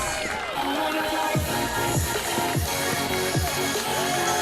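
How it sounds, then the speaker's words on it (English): A stadium crowd at a wrestling event at Nat Bailey Stadium cheers and whoops loudly and continuously, with shouts rising from the dense roar. "this crowd at Nat Bailey Stadium is going bonkers over this"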